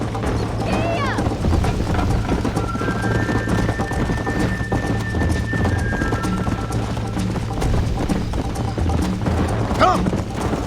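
A horse gallops in the Red Dead Redemption video game with continuous rhythmic hoofbeats up close, a whinny partway through, and a voice heard over it.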